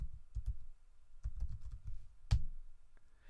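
A computer keyboard being typed on nearby to enter a short command, a few quiet uneven bursts of keystrokes with pauses between them and one sharper tap near the end.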